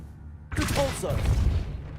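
Repulsor spell blast in the video game Hogwarts Legacy: a sudden loud whooshing burst that swells and sustains for about a second and a half, with a voice calling out over the start.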